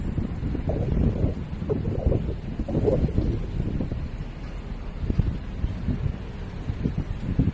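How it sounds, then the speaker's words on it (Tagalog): Strong wind buffets the microphone in a continuous low roar, gusting and rumbling throughout with no voices. "Malakas na ang hangin."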